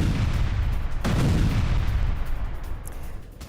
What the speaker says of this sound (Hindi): लेबनान पर हमले का वीडियो जारी किया गया है।